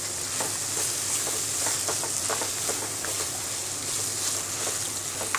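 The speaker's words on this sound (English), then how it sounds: "We have to fry it till it mixes well and the moisture sound stops." Mango thokku made from grated mango and chili powder frying and being stirred in a pan, a steady close sizzle with faint scraping strokes running throughout.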